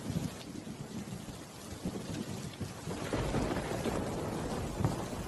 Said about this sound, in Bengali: দেখো কেমন মেঘ ডাকছে, বৃষ্টিও দেখো কত জোরে জোরে পড়ছে।